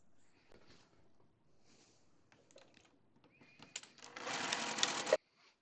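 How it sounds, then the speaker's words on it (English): A sewing machine stitches quilt fabric with a back tack. Quiet handling noises come first, then a loud, close burst of rapid stitching lasts about a second before stopping abruptly. "I am going to sew all the way down, making a back tack at the beginning and the end"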